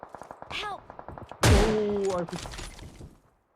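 A gun fires in a PUBG Mobile match on the Livik map, one sharp, loud crack followed by a sustained burst and a tail that fades out, with players talking over the game audio.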